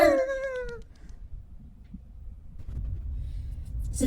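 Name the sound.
cat meowing in a video game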